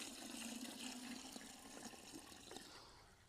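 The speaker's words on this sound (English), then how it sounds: "we're going to go ahead and pour some water in" Water pours into a container for soaking grass briquettes, a close, faint splashing trickle that tapers off toward the end.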